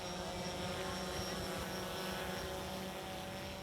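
A drone flies over the Saguenay fjord, its steady buzzing propeller whine constant and fairly faint, with no talking.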